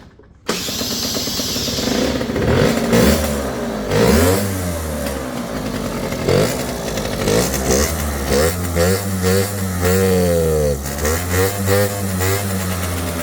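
A scooter engine, running on angled E5 mounts with a PHV8, starts up and revs repeatedly in sharp rising and falling bursts between idling stretches, loud and close with no talk.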